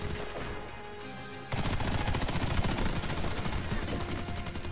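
Gunfire in Warface during a co-op Traffic Congestion match, with an H&K MG36 machine gun bursting in suddenly after a quieter stretch. The rapid automatic shots then keep going loud and continuous to the end.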